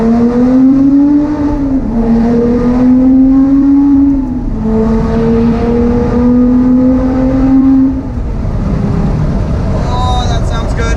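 A Lotus sports car engine revs up and accelerates, its deep roar echoing and rising in pitch through a tunnel, easing off and pulling again.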